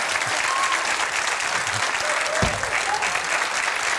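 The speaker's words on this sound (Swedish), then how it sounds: "En applåd för Jan!" A studio audience on the Swedish TV bingo show BingoLotto claps continuously and steadily, a dense wash of applause from start to finish, with faint voices underneath.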